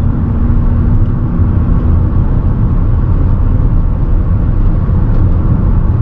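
A car engine pulls in top gear at highway speed, heard from inside the cabin as a loud, steady low drone and road rumble without any talking.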